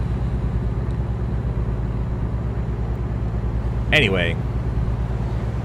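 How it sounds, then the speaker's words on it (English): A heavy truck's engine in American Truck Simulator drones with a steady low rumble throughout, loud and constant, as someone briefly speaks near the end. "This is a loud truck."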